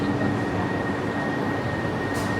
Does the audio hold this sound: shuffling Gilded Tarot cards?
no